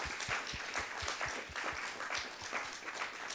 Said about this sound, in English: I think they deserve a great applause because it was full of content.